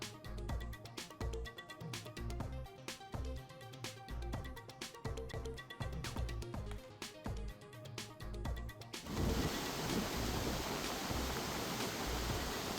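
Heavy monsoon rain in Maharashtra, shown in news footage, comes in as a steady, dense roar for the last few seconds, after a loud rhythmic music bed.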